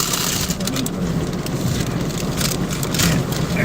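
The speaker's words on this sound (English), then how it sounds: "let's get out of this torrential downpour here" Torrential downpour at an outdoor street gathering in Olympia, Washington: dense, steady roaring rain hisses loudly and continuously with no pauses and no talking heard.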